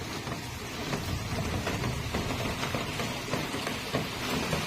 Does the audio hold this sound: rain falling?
yes